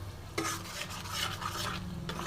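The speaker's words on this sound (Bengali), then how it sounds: "আর ভালো মতন মশলাটা কষে নিচ্ছি।" A masala spice paste for vegetable chicken curry is fried and stirred in a pan over the flame, with continuous close scraping strokes over a steady sizzle and no voices.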